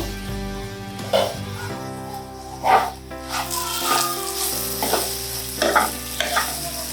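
Potato fry sizzles in a pan, a continuous close hiss broken by several sharp scraping stirs from a spatula, with no talk over it.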